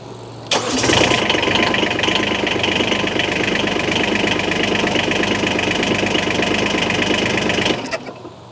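A Kubota SCL1000 stand-on compact loader's engine cranks and catches, then settles into a steady, loud, close idle for several seconds before cutting off at the end.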